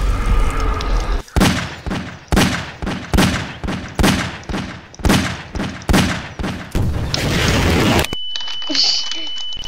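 Gunfire in Garry's Mod, about a dozen loud, evenly spaced shots with echoing tails, followed by a burst of rapid fire and then a sudden drop to quiet game ambience.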